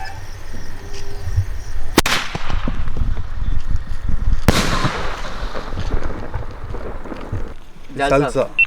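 Two sharp, loud bangs from a 3-inch Sivakasi Diwali firecracker exploding outdoors, each followed by a fading echo, with people talking around them and a crackling burst near the end.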